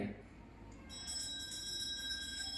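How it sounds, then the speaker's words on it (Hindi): A justice bell rings with a sustained metallic tone in a royal court scene from a stage tribute to Queen Ahilya performed by NCC cadets. It rises from a murmur of background noise and keeps ringing steadily to the end. "देवी अहिल्या का दरबार सजा है और पीछे से घंटी की आवाज आ रही है।"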